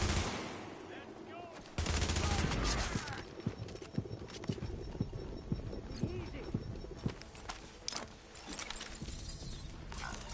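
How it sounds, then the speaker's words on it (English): Gunfire crackles in The Division's Dark Zone, sharp shots in scattered bursts and single cracks over a noisy background, with a player talking in between. "I'm getting shot at."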